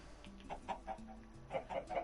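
Chickens cluck in a Minecraft world, a series of short, soft clucks repeating steadily at close range with no voices.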